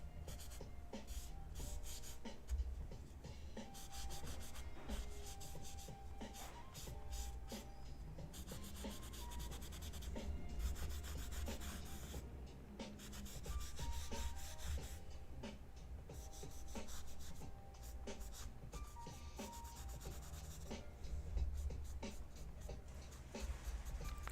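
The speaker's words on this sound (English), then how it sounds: "The proverbial rubbing." A soft, continuous scratchy rubbing of a tool across paper on a drawing, with brisk back-and-forth strokes that are close up but quiet throughout.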